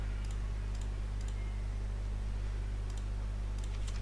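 Typing on a computer keyboard, a few light clicking keystrokes in small clusters, faint over a steady low electrical hum.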